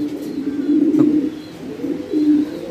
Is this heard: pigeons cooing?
yes